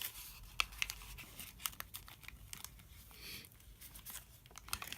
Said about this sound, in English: We'll just fold that down so that it's a valley fold.